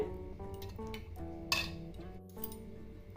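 Gram-flour batter stirred with oil in a bowl, heard as soft scraping with light clinks of a spoon against the bowl, steady and close, with no talking.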